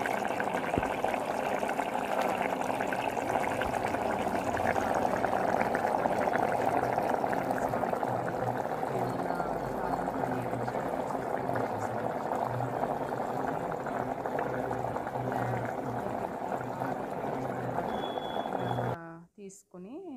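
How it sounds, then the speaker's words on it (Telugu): Cucumber and potato curry simmering in a pot after a glass of milk is stirred in, giving a steady close bubbling and frothy hiss that runs on before cutting off abruptly at the end. "మిల్క్ యాడ్ చేసి అది మళ్ళీ బాగా కుక్ చేయండి"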